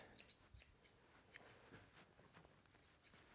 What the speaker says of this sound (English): my scissors could cut right through it.